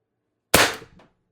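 A single sharp, loud shot from a CO2 air gun with a four-cartridge 12g stock build, decaying quickly with a short rattle afterward and silence around it.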